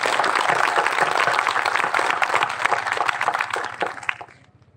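Audience applause at a launch event, dense clapping from a gathered crowd holding steady at full strength, then quickly thinning and dying away in the final second.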